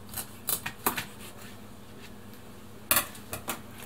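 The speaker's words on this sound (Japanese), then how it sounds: "サンマは半分に切ります。" Kitchen knife cutting a saury fish in half on a cutting board: a few sharp, close taps and crunches in short clusters, separated by quiet pauses.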